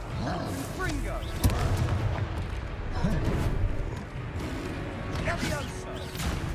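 Confringo blasting spells in the Hogwarts Legacy video game set off repeated booming explosions and crackling impacts over dense battle noise, with voices shouting in the mix.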